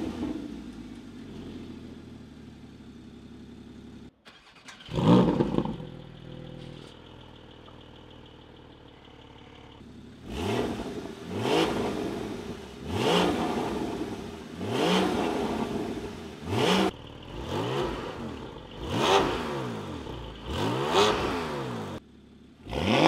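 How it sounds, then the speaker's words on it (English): A Porsche 718 GT4 fitted with over-axle exhaust pipes starts with a sharp bark, settles into a rumbling idle, then gives a series of rising and falling revs, loud and close. "let's compare some start, idles, and revs with the new over-axle pipes on my car"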